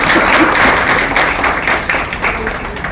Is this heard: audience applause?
yes